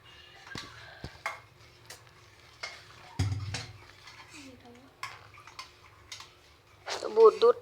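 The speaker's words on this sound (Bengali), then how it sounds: "তো লিকার জাল দিয়ে নেওয়ার পর এখন দুধ মিশিয়ে নিচ্ছি।" A spoon stirs milk into freshly brewed tea in a cup or pot. Scattered metallic clinks and scrapes come at an irregular pace, close and fairly quiet, with a brief louder clatter partway through and a short voice near the end.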